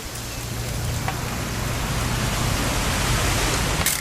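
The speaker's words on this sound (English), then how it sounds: "It's gonna rain the whole weekend, isn't it?" Steady rain pours in the video game What Remains of Edith Finch, a dense even hiss of falling drops with a low background rumble throughout and no voices.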